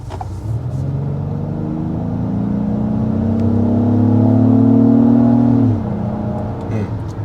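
A 2024 Acura MDX Advance engine revs steadily upward for several seconds, its smooth harmonic tone climbing in pitch and loudness before easing off sharply, with no talk over it.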